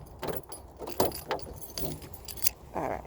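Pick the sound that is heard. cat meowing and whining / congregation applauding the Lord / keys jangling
keys jangling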